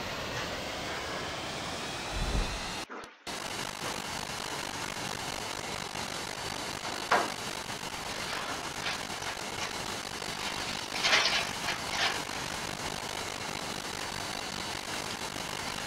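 Aircraft engines at full takeoff power in a flight game, a steady broad roar holding throughout with a brief dropout early on and faint rises later.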